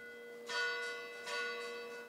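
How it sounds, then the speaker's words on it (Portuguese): Bronze church bells, more than two centuries old, ring out in Rio's city centre with two resonant strikes about a second apart, each leaving a long shimmering hum, heard clearly with no voices. "sinos das igrejas da região que voltaram a badalar depois de meses parados"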